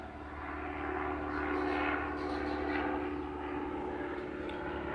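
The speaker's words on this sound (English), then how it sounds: "Helicopter going by." A helicopter passing overhead at some distance, its steady engine and rotor drone swelling and then easing slightly, with no speech over it.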